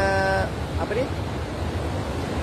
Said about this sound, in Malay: Hari ni saya tengok dia punya ombak dia macam dah nak ke musim tengkujuh.